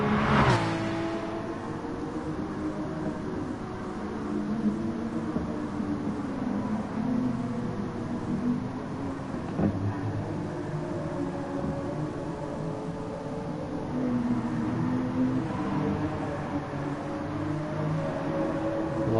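A racing car engine in a racing video game on the A1 Ring circuit holds a sustained high whine near the listener, rising and falling through the corners without a break.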